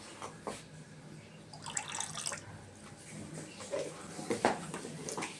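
Water poured over a Shiva idol as a ritual bath at a Shivaratri puja, with Kumbh water mixed in: soft splashing and trickling with a few louder splashes, fairly quiet and close, without talk.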